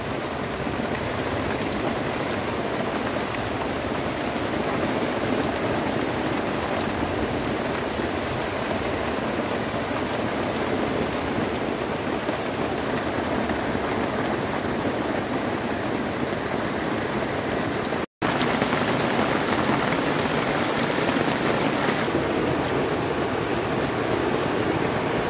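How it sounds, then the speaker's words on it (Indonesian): Heavy tropical rain pours down outside a tent during solo camping, a loud, constant hiss and patter drumming on the fabric that fills the whole stretch, with one brief click partway through. "Di luar hujan gede banget teman-teman nih."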